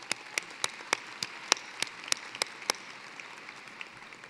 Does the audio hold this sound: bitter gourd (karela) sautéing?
no